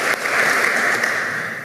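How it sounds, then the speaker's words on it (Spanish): Audience applause at a ceremony honoring defenders of democracy, clapping for a retired non-commissioned officer; a brief, steady wash of hands with no voices. "Fuertes los aplausos nuevamente para nuestro suboficial en situación de retiro"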